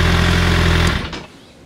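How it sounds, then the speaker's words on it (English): A 2023 Suzuki Hayabusa motorcycle engine idles steadily while warming up, a loud, even low rumble that cuts off abruptly partway through, leaving quiet afterward. "So I'm just starting the bike, I'm gonna let it warm up for a few minutes to help the oil drain"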